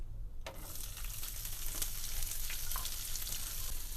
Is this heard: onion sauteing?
yes